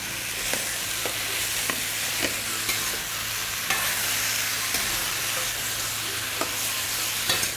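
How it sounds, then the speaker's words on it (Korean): Continuous close sizzling of potato, tomato and eggplant stir-frying for tomato curry, punctuated by regular light scrapes and taps of stirring, with no talking. "맛있는 소리가 자글자글 들리는데요."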